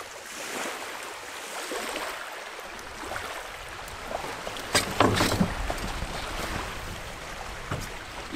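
A canoe paddled across a lake in the boreal forest: soft water swishes and paddle strokes over a gentle wash of lapping water, with a louder splash and knock near the middle, close and unhurried.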